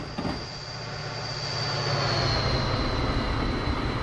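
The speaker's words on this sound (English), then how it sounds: "I just love that sound of tracks and trains." In Train Simulator, a train passes by on the tracks with a rising rumble and a high steady whine, growing louder over a few seconds with no voices.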